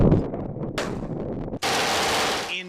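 Loud gunshots ring out at an outdoor desert sport shooting range with sporting-clay stations. Sharp blasts are followed by a rushing, wind-blown roar and a later burst.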